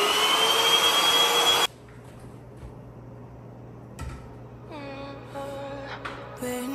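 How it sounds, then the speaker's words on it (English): A vacuum cleaner runs loudly on a Ruggable rug with a Victorian print, then cuts off abruptly, leaving a low hum and a few light knocks and faint tones. "Put this down first and vacuum it."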